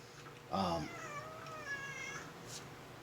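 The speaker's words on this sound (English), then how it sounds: "My cat meowing here, sorry." A pet cat meows once, fairly close and clear, with a long drawn-out call that trails off over a quiet indoor room with low background hum.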